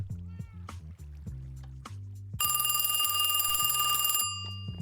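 Telephone in a Minecraft game show rings with a bright, loud electronic trill that starts midway and holds for about two seconds. Before it, game sounds and low tones fill the mix.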